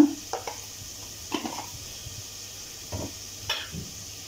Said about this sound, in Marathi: आता आपला मसाला छान आपण तेल सुटेपर्यंत परतून घेतला आहे